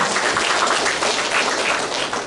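A church congregation claps for God during a Good Friday sermon, a dense, steady wash of many hands that stays loud and unbroken throughout.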